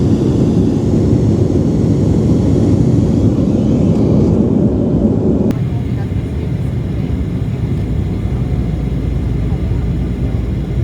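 Airplane engine drone heard from inside the cabin, a loud, steady low rumble that fills the whole stretch, easing slightly partway through, with no talk.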